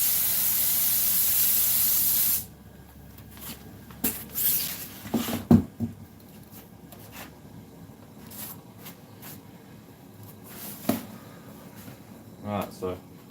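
An aerosol can sprays glue reactivator in one loud, close, steady hiss lasting a couple of seconds while a 1964 Cadillac dash is being recovered, followed by light handling noises and talk.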